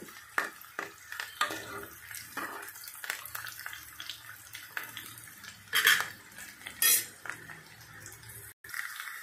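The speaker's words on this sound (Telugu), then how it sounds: "ఈ ఆనియన్స్, పచ్చిమిర్చి ఫ్రై అవుతాయి కదా" Onions and green chillies frying in a pan while a spatula clinks and scrapes against the metal in irregular bursts, with a low sizzle underneath and a few sharper clatters.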